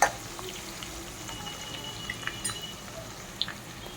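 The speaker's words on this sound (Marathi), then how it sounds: "कढीपत्ता ॲड केल्यावर थोडासा गॅस कमी करा बघा त्याची सुंदर फोडणी तयार होते" Curry leaves sizzle in hot oil for a poha chivda tempering, a steady even frying hiss with a few small pops, close and alone.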